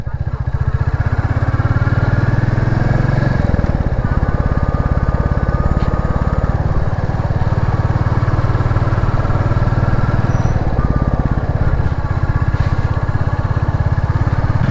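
A Royal Enfield Classic 350 in Emerald Green idles close by, its single-cylinder engine giving a steady, loud, low thumping pulse that carries on throughout with a few brief shifts in tone.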